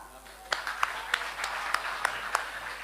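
An audience at a Pashto poetry mushaira in Hyderabad, Sindh applauds a poet with moderate clapping that runs under a speaking voice, with a handful of sharper, evenly spaced claps standing out.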